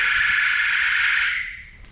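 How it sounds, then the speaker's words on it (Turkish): A loud, shrill electronic alarm tone sounds continuously in a newly opened warehouse, then fades away toward the end. "bu depo ilk defa açıldığı için alarm ötüyor"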